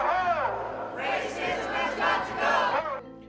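A protest crowd shouting in unison, loud overlapping voices rising and falling in chant-like waves, close and continuous.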